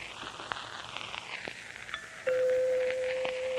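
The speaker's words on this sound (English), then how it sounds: "there's the doorbell" A steady electric bell tone starts suddenly partway through and holds level to the end, over a crackly, hissing background.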